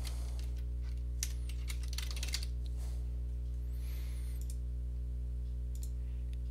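Computer keyboard typing arrives as a few quick clusters of light key clicks early on, then sparse taps over a steady electrical hum, close and without speech.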